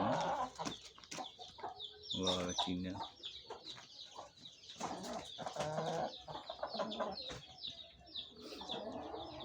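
Aseel chickens cluck and squawk at close range while a person speaks briefly over them, with scattered bird calls throughout.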